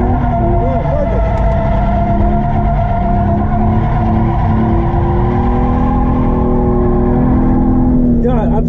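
A Hyundai Genesis Coupe drifts with a loud, continuous tire squeal and a revving engine, close by, while people talk over it.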